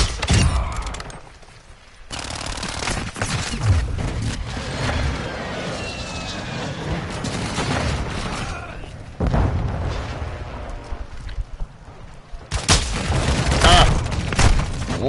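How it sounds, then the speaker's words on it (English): Airstrike explosions and gunfire from the video game Modern Warfare 2, with loud deep booms and rolling blasts mixed with bursts of shooting, dense and continuous across the whole stretch with a brief lull near the start. "Friendly airstrike in the AO."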